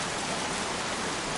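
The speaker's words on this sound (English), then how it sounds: "Goddamn rain, soaking wet" Steady heavy rainfall in the Heavy Rain video game, a dense, even wash of downpour hiss with no breaks over a short stretch.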